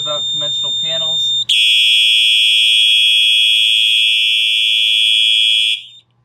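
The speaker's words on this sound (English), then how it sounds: "just some wire and a short circuit, and you've got yourself some alarms going off" A person talks briefly before a conventional fire alarm panel sets off a loud, piercing, continuous high-pitched alarm tone. The tone holds steady for about four seconds, then stops abruptly.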